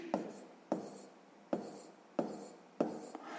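Pen strokes scratch across paper while numbers are written out in five short, evenly spaced bursts, close and quiet with no talking.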